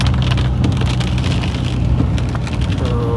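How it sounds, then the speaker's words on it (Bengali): Rain falling during a drive along a village road, a dense, loud, continuous patter over a low rumble of the car, with no talk. "আজকে অনেকটা বৃষ্টির দিন, বৃষ্টি পড়তেছে।"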